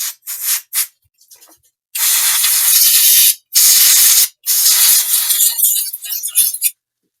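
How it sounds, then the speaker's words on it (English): Electrical contact cleaner sprays onto an HP Envy x360 laptop fan in several loud, close hissing bursts, a few short puffs first and then three long blasts with brief gaps between. "This is just electrical contact cleaner."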